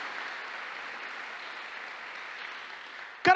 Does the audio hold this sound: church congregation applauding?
yes